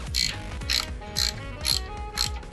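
A hand ratchet turns bolts into a 4L60E transmission valve body, making close repeated clicking sweeps about every half second, steady and mechanical, with no talk.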